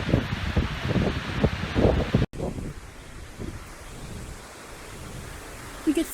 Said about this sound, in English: I hope the wind is not too loud.